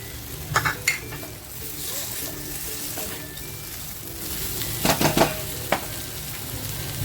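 Pieces of fried Bombay duck fish tip into a pan with homemade masala and salt and get stirred, with a steady soft sizzle underneath and a few sharp clinks and scrapes of a utensil against the pan.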